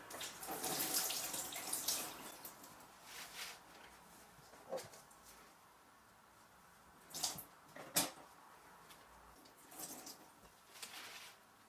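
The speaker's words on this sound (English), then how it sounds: "always remember to wash your salad before doing it" Salad leaves being rinsed under a running tap, giving a steady wash of splashing water with occasional louder splashes and squishes as the greens are handled, no voices.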